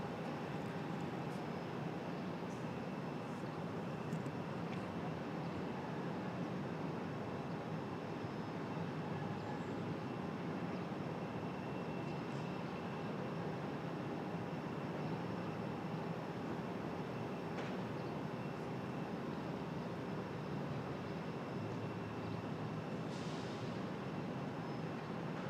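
A Southwest Airlines jet at Raleigh-Durham International Airport gives a steady, distant broadband rumble that holds evenly for the whole stretch, with no voices.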